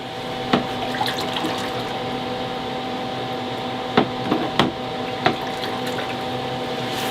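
A bonsai tool under restoration dipped into water, a steady running-water wash with a few distinct clinks and splashes as the metal goes in, no talking.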